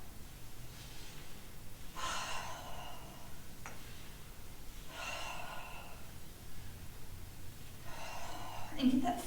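Steady yoga breathing during a spinal rotation, with slow, audible inhales and exhales recurring about every three seconds at close range over a quiet room background.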